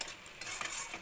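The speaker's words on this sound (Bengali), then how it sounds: "ভালো করে মশলাটাকে কষিয়ে নেওয়া হবে" Homemade masala of ground spices, turmeric and salt frying and being stirred in a pan for jackfruit kopta curry: a brief, steady sizzle with soft scraping stir strokes close by, no voices.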